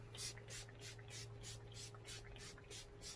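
Rapid, regular bursts of a hissing makeup setting spray, about a dozen quick pumps in a row, close and fairly soft over a low steady hum.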